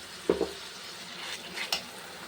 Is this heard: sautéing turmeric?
yes